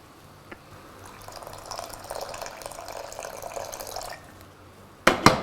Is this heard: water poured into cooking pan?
yes